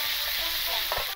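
Pre-cooked spice paste hits hot oil left from frying pointed gourd, a loud close hiss and sizzle with a stir stroke near the end before it cuts off abruptly.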